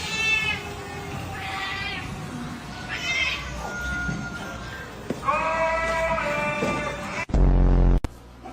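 A cat meows repeatedly, drawn-out and whiny, over steady background noise, ending with a couple of loud thumps.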